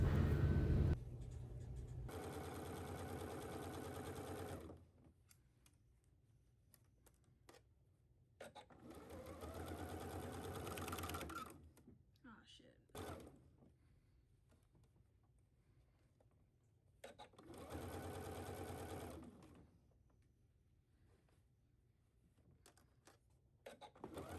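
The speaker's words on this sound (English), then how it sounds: "Take this to the sewing machine and sew it at 5/8." A sewing machine stitches a sleeve seam in three long bursts of steady whirring, separated by quiet pauses with faint clicks and handling noises.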